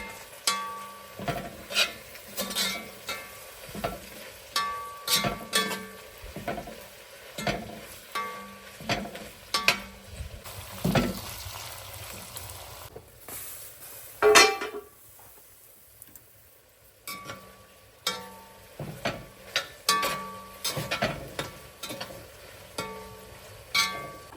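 Bograch stew of pork and other meat cooking in a cauldron, with steady rhythmic stirring scrapes and a soft sizzle repeating close by, a short quieter pause midway, then the stirring resumes.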